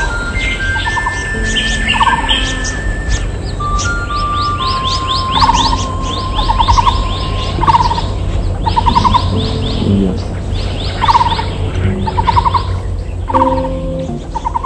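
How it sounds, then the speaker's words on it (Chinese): Many birds calling in forest on an ecological farm, a dense overlapping chorus of repeated whistles, trills and chirps from several species, some near and loud, others farther off, continuing throughout without talk. "哇，这么多的鸟叫声"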